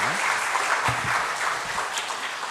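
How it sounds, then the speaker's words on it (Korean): Steady applause from a church congregation fills the whole moment, even and sustained without any clear peaks. "우리 감사의 박수 한번 보내주시기 바랍니다."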